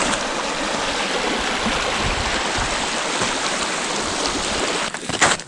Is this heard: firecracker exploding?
no